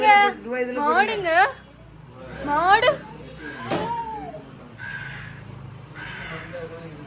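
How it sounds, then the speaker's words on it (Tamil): Several harsh crow caws in quick bursts, followed by fainter calls and a sharp click, with a voice speaking in Tamil in between. "காக்கா"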